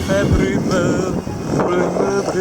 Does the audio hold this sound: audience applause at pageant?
no